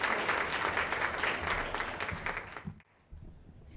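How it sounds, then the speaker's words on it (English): An audience at a 4-H fashion revue at the Ohio State Fair claps steadily in a dense, sustained burst that trails off near the end, followed by a brief lull and faint room noise. "yes, they do deserve your applause."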